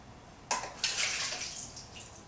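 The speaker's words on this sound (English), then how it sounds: "I'm going to strain them to remove all the water" Water from cooked artichokes splashes and pours out as they are strained, two quick sloshes followed by a short, faint trickle, with no voices.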